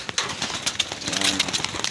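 Racing pigeons coo at feeding time in a loft, with soft overlapping throaty coos and scattered pecking and shuffling, close and continuous.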